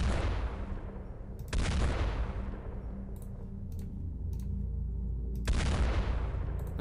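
Pistol aimed shots fired in the turn-based strategy video game X-COM: three sharp, loud game gunshot blasts spaced a couple of seconds apart, each ringing out with a long decaying tail, with faint clicks in between.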